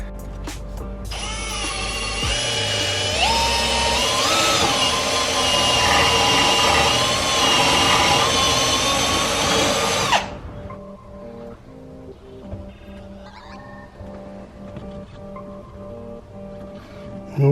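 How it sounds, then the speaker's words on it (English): Power drill running steadily for about nine seconds, opening out a hole with a 13mm bit during work on a BMW E46 323ci drift build, then stopping and leaving quiet workshop background. "I've got a 13mm drill bit, so I'm going to drill it out with this, see how it goes"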